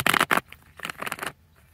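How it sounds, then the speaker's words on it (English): Tarot cards being shuffled by hand, a few short papery riffles and rustles in quick bursts, close and soft with brief pauses between. "These cards don't want to shuffle."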